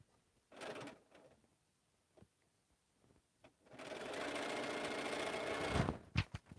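A sewing machine stitches quilt seams, running in two bursts: a short stretch near the start, then a longer steady whir through the second half that ends with a few quick stops and clunks. No one speaks.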